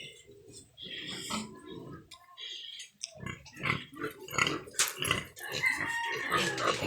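Pigs grunt and squeal repeatedly at close range, a busy mix of low snorts and sharper high-pitched squeals with short pauses between bursts.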